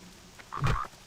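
A single frog croak from a video game, short and fairly close, rising out of a quiet background and fading within about a second.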